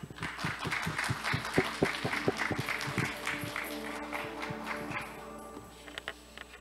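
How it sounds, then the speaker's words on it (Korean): Modest, fairly sparse applause at a stablecoin symposium welcoming the keynote speaker, with individual claps audible and the sound tapering off toward the end. "회장님을 힘찬 박수로 환영해 주시기 바랍니다"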